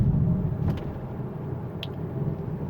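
A 2016 BMW 435i xDrive pulling away for a drive, its engine a low steady rumble heard from inside the cabin with a couple of faint clicks.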